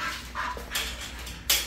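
A pit bull gives a few short, high whimpers and soft whines during a training session, close and fairly quiet, separated by brief pauses.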